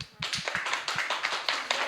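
Children in a church Sunday school service clap together in a quick, fairly loud burst of crisp hand claps, the rhythm a little uneven, with a few low taps at the start and no talking over it.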